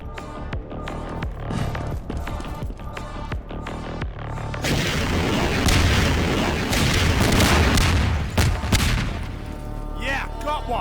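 Rockets blast against an APC in Half-Life 2, a dense run of heavy explosions and gunfire that swells into a sustained loud roar, with a brief voice near the end.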